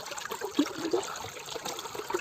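Water gurgles and trickles steadily down a drain, a soft continuous wash with a few small splashes.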